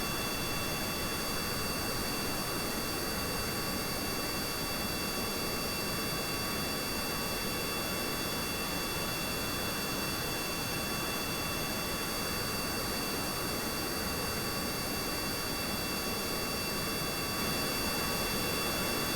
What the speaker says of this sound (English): the sound in Kerbal doesn't sound that great. It's just engines